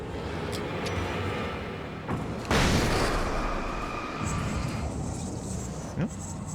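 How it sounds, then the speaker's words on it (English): Flashbang grenades going off in the Alan Wake video game, a sharp bright bang followed by a rushing burst and fading hiss, with game ambience and a voice speaking around it. "My flashbangs."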